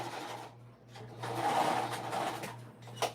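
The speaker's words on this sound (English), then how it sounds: "I'm still back stitching, because you don't want any of this coming apart on you." A sewing machine back stitches a bag seam up close, running in short uneven bursts over a low steady hum, with no voices.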